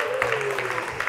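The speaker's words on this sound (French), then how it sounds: "vous pouvez applaudir pour vous" A Rwanda TV studio audience claps briefly and steadily while a voice speaks over the applause.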